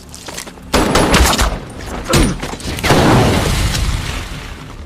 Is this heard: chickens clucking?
no